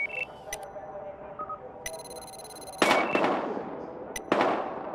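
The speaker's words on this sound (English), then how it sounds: "We've got gunshots." Gunfire in the video game Battlefield Hardline, a few sharp separate shots with ringing tails heard among electronic beeps and tones.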